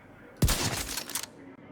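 A single loud gunshot from a weapon in the video game Division 2, a sharp close blast followed by a brief ringing tail, with no talking.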